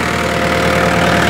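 A concrete pump's engine runs at a steady idle, a loud, even mechanical rumble with a faint knocking pulse and no voices.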